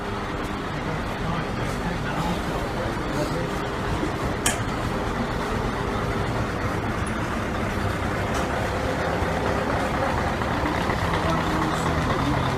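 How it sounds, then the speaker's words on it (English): A breakdown truck rolls along a town street in Ipswich near the railway station, its engine a steady low rumble amid continuous traffic noise, with a person talking over it. "Looks like a fire engine or something of similar kind. Breakdown wagon."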